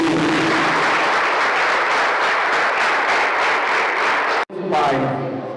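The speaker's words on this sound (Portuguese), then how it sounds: "Vamos aplaudir nosso Deus." Worship congregation in a church breaks into loud, dense applause that fills several seconds, cuts off abruptly, then resumes briefly with voices over it.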